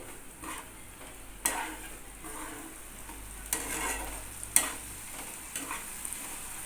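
Spice paste with turmeric sautés in a pan for pointed gourd curry, a steady soft sizzle broken by periodic scraping strokes of a spatula, close and moderately quiet with no talking.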